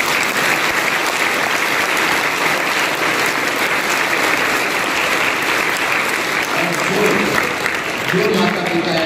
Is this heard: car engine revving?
no